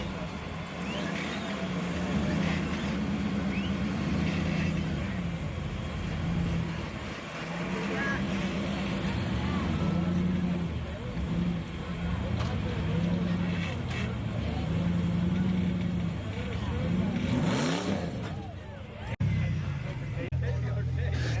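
A 4x4 rock crawler in Sand Hollow grinds forward in front-wheel drive down into a rock notch, its engine droning and revving unevenly close by while people talk over it.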